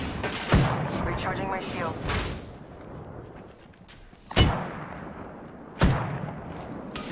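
Gunfire in the Apex Legends video game. Three loud, close shots hit separately, about two seconds apart. Someone talks between and over them.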